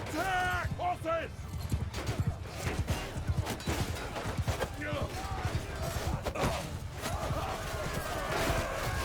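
Horses gallop in the medieval battle game Mount & Blade 2: Bannerlord, with a busy, continuous rumble of hooves throughout, partly masked by loud shouted speech.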